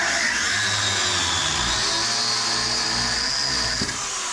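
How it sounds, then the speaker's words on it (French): Angle grinder cutting into the anti-roll bar link of a Renault Twingo, a loud, steady high-pitched grinding whine that runs continuously without a break, with a low motor drone underneath. "je vais commencer par meuler la biellette de bar stable ici"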